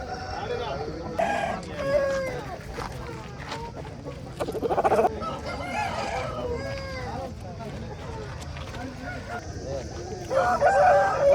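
Aseel roosters crow at a busy Saturday poultry market in Mydukuru, several crows rising over steady crowd chatter and clucking, with louder bursts near the middle and end.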